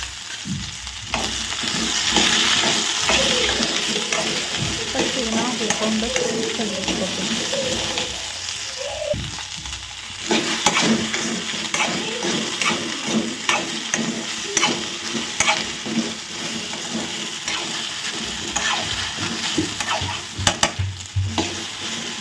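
Steady oil sizzling as okra fries in a pan with scraping stirring sounds throughout, close and moderately loud, a voice faintly in the background at times.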